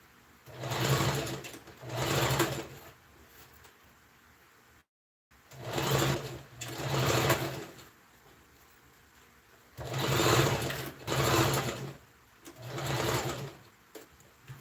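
A sewing machine back-stitches pleats into organza ruffled sleeves in four paired bursts of fast, steady whirring stitching, separated by quiet pauses and one brief gap.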